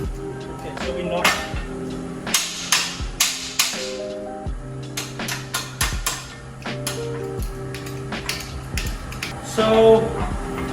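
Irregular metallic taps and knocks from a hammer on leaf springs come in short bursts, close and fairly loud, with a faint steady hum underneath.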